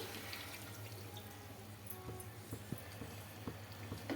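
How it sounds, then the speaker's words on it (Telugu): Tamarind water is poured over raw fish pieces in a cooking pot, a faint, steady trickle with a few small splashes and drips, close by in a quiet kitchen. "ఇంకా చింతపండు నీళ్ళు అయితే వేస్తున్నానండి"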